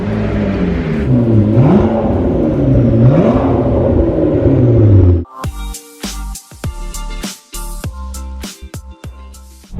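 A rebuilt McLaren sports car engine on its first drive revs and whirs in rising, falling pulls. It then cuts off abruptly and gives way to sharp, separate knocks and clatter nearby.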